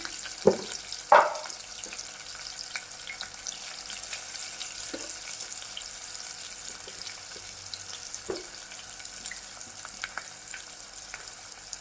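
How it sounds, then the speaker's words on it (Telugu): Onions frying with salt until golden, with a steady close sizzle, two louder knocks of a spoon near the start and occasional stirring clinks after that. "మళ్ళీ ఒకసారి కలిపేసుకొని బాగా గోల్డ్ కలర్ వచ్చిన వరకు ఫ్రై చేసుకున్నాము."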